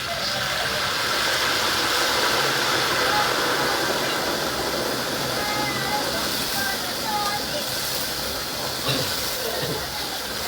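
Pork belly deep-fries in hot oil for lechon kawali, giving off a loud, steady, crackling sizzle that fills the whole stretch without pause.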